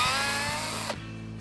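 A power drill spins out Torx screws above the headlight on a 2012–2015 BMW 3 Series bumper. A steady, close whirring whine runs for about a second, then cuts off sharply into a quiet, faint hum.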